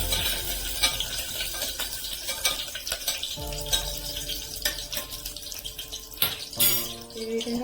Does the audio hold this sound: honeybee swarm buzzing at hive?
no